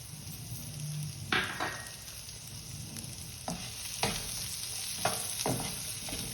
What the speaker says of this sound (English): it gives a better taste if you are frying the vegetables a little